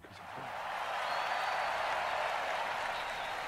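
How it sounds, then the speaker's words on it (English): A movie crowd breaks into sustained applause and cheering, a broad steady roar that swells quickly and holds at full volume. "Why are people cheering for him?"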